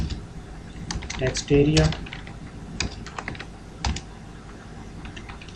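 Keys on a computer keyboard clatter in quick, uneven bursts while a password and form fields are typed for a web page, with a few louder clusters and someone speaking briefly over the tapping.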